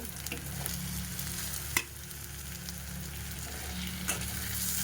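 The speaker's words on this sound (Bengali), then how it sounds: "আমি এবার এর মধ্যে টমেটো কুচিটা দিয়ে দেব" Chopped tomato hits a pan of onion, garlic and ginger frying in oil, giving a steady close sizzle with a couple of sharp clacks and scrapes from stirring.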